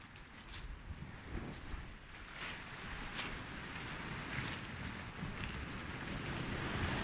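Sea swell and breaking waves at Blackgang Chine on the Isle of Wight's coast, a steady broadband wash with gusting wind buffeting the microphone, moderately faint and continuous with no talking.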